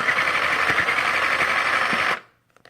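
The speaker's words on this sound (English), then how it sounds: "Now I'm going to begin sewing straight on." A sewing machine stitches a small fabric pouch with a loud, steady, close whirring run of about two seconds that stops abruptly, followed by a few faint clicks.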